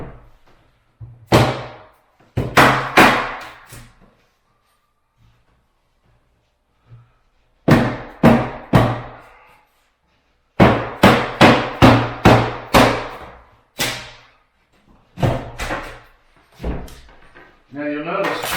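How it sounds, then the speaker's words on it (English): Repeated heavy blows from a dead blow mallet striking a cabinet face frame, loud close thuds landing in quick bursts of several hits separated by pauses. "Now you'll notice I'm using a dead blow."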